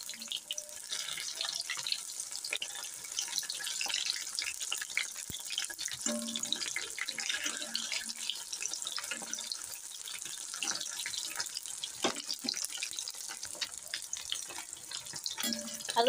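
Battered moray fish pakoras deep-frying in hot oil, a steady, close, dense crackling sizzle that runs unbroken throughout with faint occasional clicks.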